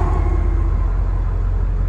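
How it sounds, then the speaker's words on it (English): Trucks passing on a road beside a 4x4 Ford E-350 van with a 7.3 diesel, a steady close rumble of heavy vehicles going by with no talk. "Got a couple of trucks we'll let pass."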